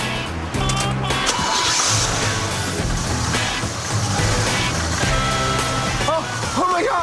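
A car engine catching and running steadily, a rough continuous rumble with clanks, while people talk excitedly over it.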